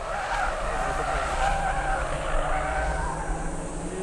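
Several cars, among them a CR-Z, run nose to tail in a team-pursuit format on a race circuit, engines roaring steadily and tires squealing and skidding without a break, loud and close.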